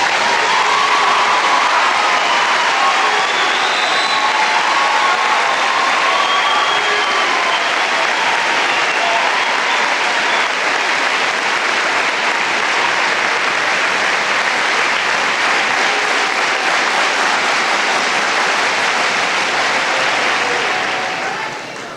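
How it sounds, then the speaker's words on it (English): Applause for honored students at a 1985 school music festival in Owatonna, Minnesota: a broad, loud, sustained clapping from a large audience that holds steady for about twenty seconds and fades slightly at the end. "Would these people please stand and receive an applause?"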